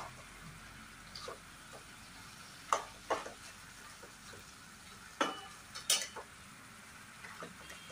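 Marinated chicken added to a hot pan with tomato and whole spices, a soft steady sizzle under sharp clinks and scrapes of a spoon stirring against the pan, no voices.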